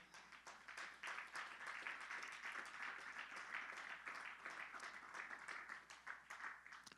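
A congregation applauds steadily during a church service, dense clapping rising and holding for several seconds in a reverberant room.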